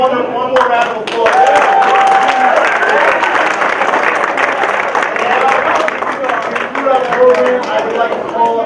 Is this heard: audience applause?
yes